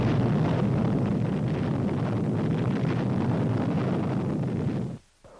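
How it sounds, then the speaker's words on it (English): Atomic artillery firing produces a loud, dense rumbling roar that holds for several seconds and then cuts off abruptly into near silence. "Then came atomic artillery."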